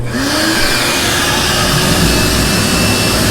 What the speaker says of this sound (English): this also has another vacuum with the Oneida Vortex system